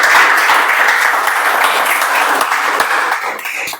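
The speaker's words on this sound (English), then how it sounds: "Can we have a huge round of applause for every single person who graced the" A meeting audience applauds the table topics speakers in a dense, steady burst of clapping that fills the room and tapers slightly at the end.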